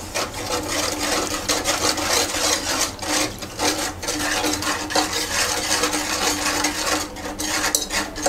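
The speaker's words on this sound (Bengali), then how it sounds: "এবার মিক্স করে নিচ্ছি।" A spoon scrapes and swirls through custard milk ingredients in a bowl, a continuous rasping stir with small rhythmic clinks, close and steady throughout.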